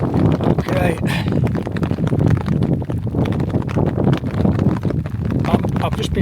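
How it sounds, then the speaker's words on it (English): Strong gusting wind buffets the microphone during a hailstorm on a mountain hike in the Pecos Wilderness of northern New Mexico, a steady loud roar with scattered sharp pattering, while a person talks over it. "that wind is freezing, and it's a hailstorm is this"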